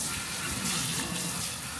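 Water pours steadily from a pull-down kitchen faucet sprayer into a sink, a continuous close hissing gush with no pauses.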